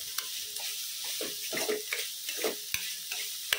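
Cleaned anchovies fry and get stirred in a pan over a faint background sizzle. Scattered clicks and scrapes of the spatula sit over it, with a few sharp taps against the pan.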